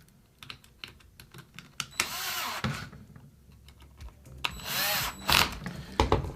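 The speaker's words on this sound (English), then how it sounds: "Then once all 4 are started, you can go ahead and tighten all these down." Two bursts of a cordless drill tighten screws of a holster belt mount. Each whirring run lasts about a second, with scattered clicks and handling taps before, between and after them.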